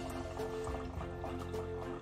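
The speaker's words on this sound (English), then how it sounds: "I'm just gonna wash my hands right quick again." Running tap water splashes steadily over hands at a kitchen sink while appetizers are being made, a continuous close trickle and pour with no speech.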